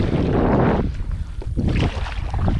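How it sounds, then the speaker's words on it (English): Gusty wind buffeting the microphone on a river while paddling, loud low rumbling bursts that rise and fall with no talking. "The wind picks up and makes me feel like I'm going back upstream again"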